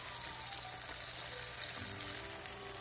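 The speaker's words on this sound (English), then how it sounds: "I have some more getting cooked now, frying on top" Flour-coated yellow croaker fish fry in hot oil, giving a steady, close crackling sizzle with small pops and no talking.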